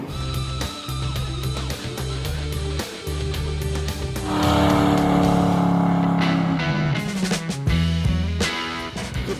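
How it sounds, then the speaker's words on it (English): Modified 1977 Pontiac Trans Am restomod with a swapped LS3 V8 on the move, loud rumbling engine building and revving through the gears, close and steady with a few sharp shifts. "let's go for a ride in a slightly modified 1977 Pontiac Trans Am"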